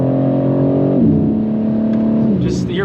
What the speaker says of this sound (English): the turbos sound really good